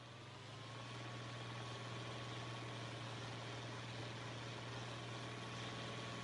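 Tractor engine idling in Farming Simulator 25, a steady low droning hum with constant rumble that swells in over the first second and then holds even and unbroken, with no talking.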